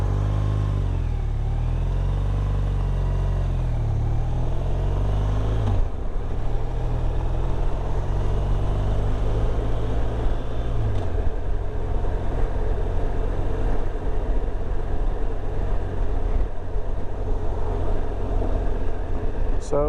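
A BMW motorcycle rides along Hull Road with a steady, loud engine drone and wind rush throughout, its pitch shifting near the start as the rider changes speed.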